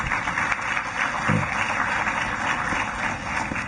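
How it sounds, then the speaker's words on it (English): An audience at a West Virginia University international graduates recognition ceremony gives a hand, producing a brief wash of moderately loud clapping in a hall with a steady background hum. "please give all these individuals a hand of applause"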